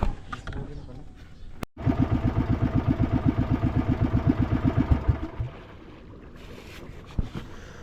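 A motorboat engine chugs in a rapid, regular pulse, loud and close, then cuts off, leaving faint background noise and a brief voice.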